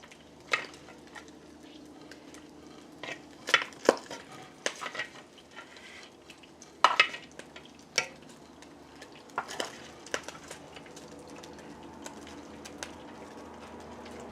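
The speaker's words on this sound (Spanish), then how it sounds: "luego pongo la salchicha. Y así voy a ir dorando todo." Sausage and bacon browning in a frying pan for charro beans, with a steady low sizzle throughout and intermittent sharp clinks and scrapes of a utensil stirring against the pan, loud at moments, with no talk.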